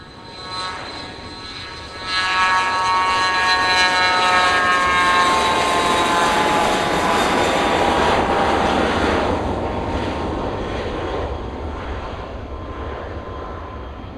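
A fixed-wing aircraft takes off from the runway at St. Kitts airport. Its engine roar swells sharply after a quieter start, then holds as a loud, sustained whine before slowly easing off.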